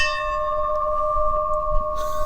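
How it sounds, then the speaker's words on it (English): An old school bell hangs from a rope and is rung by pulling it, giving one clear, ringing metallic tone that sustains and slowly fades with rich overtones, heard close and alone. "Ring the bell and run, guys."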